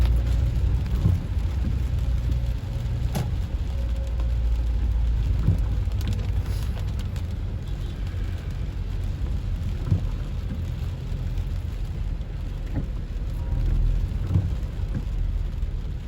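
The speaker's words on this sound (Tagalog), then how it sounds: "Ulan." Heavy monsoon rain of the habagat pours over Metro Manila, a steady, dense hiss with occasional sharper drops and low rumbles, continuous and unbroken for the full length.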